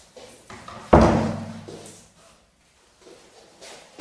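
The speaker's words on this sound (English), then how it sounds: "that's one door closed." A newly hung recording studio door swings shut with a single solid thud that rings and decays for about a second, followed by quiet shuffling and faint movement nearby.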